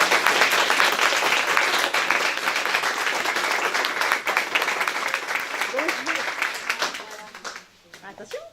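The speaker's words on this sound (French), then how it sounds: "je voudrais que l'on s'applaudisse tous" Audience applause at a Téléthon charity event, a loud, dense crowd clapping that gradually thins out and fades near the end as voices emerge.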